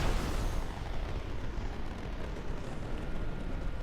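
Rocket explosions from Iron Man's weapons in the video game Marvel's Avengers, a heavy rumbling blast that rolls on continuously, loud and low-heavy with no speech over it.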